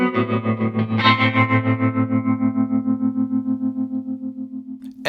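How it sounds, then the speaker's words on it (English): A sustained guitar chord runs through an EHX Oceans 11 reverb pedal on its tremolo reverb setting, pulsing in a steady rapid throb as a shimmering wash decays slowly, followed by a brief click at the end. "We started out with a tremolo reverb."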